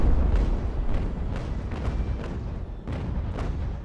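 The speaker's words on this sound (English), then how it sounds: "get those guns to bear. Come on, fire." Naval cannon fire from age-of-sail warship guns in the Ultimate Admiral Age of Sail strategy game, a dense run of repeated booms and rumbling blasts rolling over one another throughout at steady loudness.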